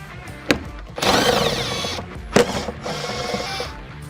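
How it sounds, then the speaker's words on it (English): Plastic A-pillar trim covers and bolts being removed inside a 2022-2026 Chevrolet Silverado cab, heard as sharp clicks and snaps, then a short burst of ratcheting or power-tool whir followed by another click and a second longer mechanical run, close and alone. "To remove the A-pillar, you're going to remove these two covers right here, and the two bolts underneath the covers."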